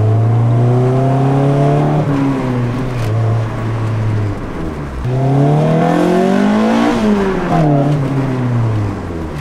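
Honda car engine revving hard with VTEC, its pitch climbing and dropping through several loud, close rev sweeps with gear changes and no talk.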